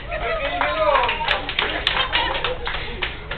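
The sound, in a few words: applause for a team at a fun sports contest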